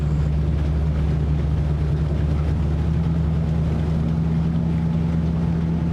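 Mercury Racing boat engine with a MoTeC MCM112 held steady at 2,500 rpm on the water, a loud, constant droning hum with a clear tonal whine and wind wash, no talk.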